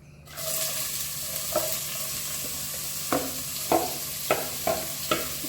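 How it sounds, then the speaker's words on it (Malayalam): Onions and green chillies sautéing in a pan for kothu porotta, a steady close sizzle broken by several sharp scraping stirs of the spatula toward the end. "അപ്പൊ നമുക്ക് ഉള്ളിയും പച്ചമുളകും കൂടി ഇടാം"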